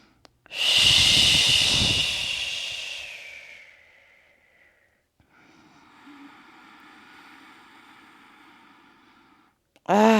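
A long, deep breath during a seated beginner yoga class: a loud airy inhale-exhale lasting about three seconds, then quieter steady breathing, close to the microphone with no talk.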